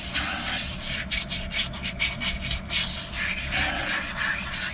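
Wet and dry sandpaper rubbing down a Jurassic fossil, worked up to 600 grit; a steady close scratchy abrasion with a rhythmic run of back-and-forth strokes through the middle, no talking.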